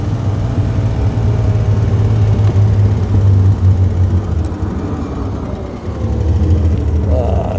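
A 1938 Alvis Speed 25 climbing a hill, its engine pulling with a steady, loud droning rumble that dips briefly and then returns, heard from inside the car with no talk.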